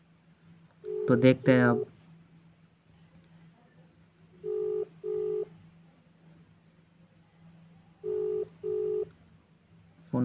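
A mobile phone call is placed: a burst of rapid dialing tones, then paired busy-signal beeps repeating twice at intervals over a low steady hum, with someone speaking briefly.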